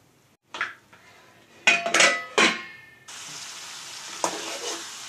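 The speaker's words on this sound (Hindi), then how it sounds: "इसको अच्छे से फ्राई कर लेते हैं। बराबर में चलाते हैं ताकि ये पकने ना पाए और जले नहीं।" Masala frying in a pan for urad dal curry, with sharp metal spoon scrapes and clinks against the pan in quick bursts, then a loud steady sizzle that carries on to the end, close and clear.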